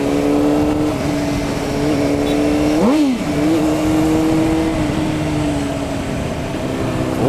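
Red Honda CBR 600RR sport motorcycle idling high and steady close by, with one quick throttle blip that rises and falls sharply midway before settling back to a constant drone.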